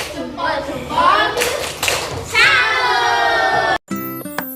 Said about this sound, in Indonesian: Beri tepuk salut.